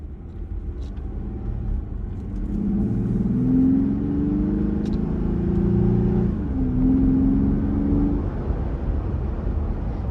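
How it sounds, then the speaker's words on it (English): A 2025 Jeep Gladiator's low exhaust rumbles steadily, then rises in pitch as it revs through acceleration from takeoff, drops briefly, and climbs again. "that low tone exhaust note that you get from takeoff and through acceleration"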